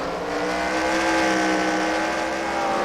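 A race car engine roars steadily at a car racing event at the Freedom Factory, a dense continuous loud drone with no break and no talking.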